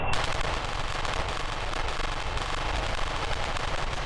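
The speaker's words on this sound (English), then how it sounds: "They just had to have this many machine guns." Twin 30 mm cannons of a Me 262 fighter in Kerbal Space Program firing a dense, continuous rattling stream of rapid shots, loud and sustained throughout with no voices.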